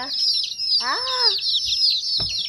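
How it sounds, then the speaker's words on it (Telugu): Shrill, high peeping from several young chicks chirps continuously, with a brief lower cluck-like call in the middle. "చూడండి ఇవన్నీ నా కోడి పిల్లలు ఈరోజే కొన్నాను"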